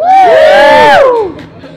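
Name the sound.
small crowd cheering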